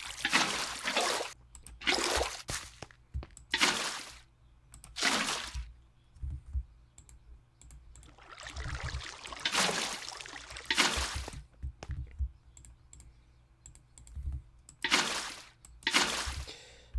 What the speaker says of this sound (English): even though there is water flowing directly above redstone